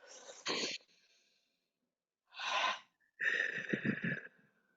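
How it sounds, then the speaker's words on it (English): Deep breaths are drawn and released during a guided forgiveness session: a sharp inhale, a longer exhale after a pause, then a loud, rough breath with a wheezy edge, all close and alone. "And then breathe."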